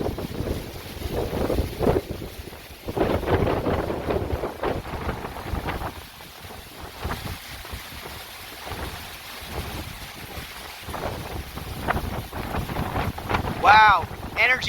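Strong Hurricane Ida wind roars and buffets a microphone on Dauphin Island, loud gusting rushes rising and falling throughout, with surf-like churn beneath and brief squeaky noises near the end.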